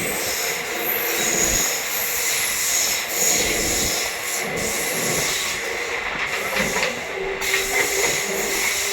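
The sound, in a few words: train running at speed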